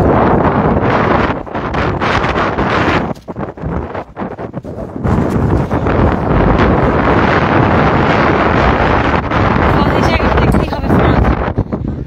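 Strong wind at the Langkawi Sky Bridge, a high walkway, roars and buffets the microphone almost nonstop, with a brief lull in the middle, and some talk is mixed in.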